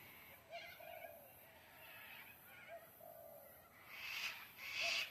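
A flock of cockatoos gives repeated harsh, hooting calls that overlap and swell in the background, growing louder and shriller toward the end, with no talking over them.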